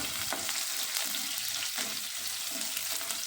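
Whole garlic cloves with black cumin frying in hot oil, a dense, even hiss and crackle with light stirring, close and continuous.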